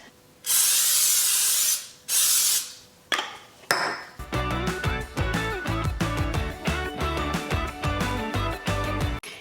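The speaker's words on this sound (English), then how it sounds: "I'm gonna give it a spray first." Two long hissing bursts of aerosol cooking spray onto a dish and a shorter one, followed by clinking and rattling kitchen sounds with music playing underneath.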